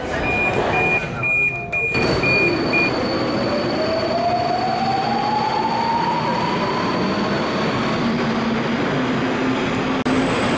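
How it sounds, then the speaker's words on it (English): Budapest Metro Line 4 train running through a station, a loud steady rumble of wheels and motors with a rising whine as it accelerates, plus brief high electronic tones near the start. "Let's explore the Metro 4, Budapest's newest metro line"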